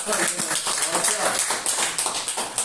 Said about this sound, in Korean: 좋았다고 하면은 큰 박수